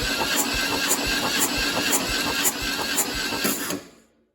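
An air-cooled VW engine cranks over on the starter with a compression gauge fitted, a close, rhythmic chugging of about seven even beats that stops abruptly after roughly four seconds.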